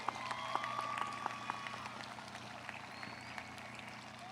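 Soft, continuous applause from the audience at a 2021 world languages institute graduation ceremony, an even patter of many hands at a moderate distance.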